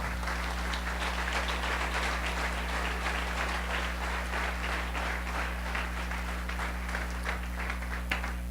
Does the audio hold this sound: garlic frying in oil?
no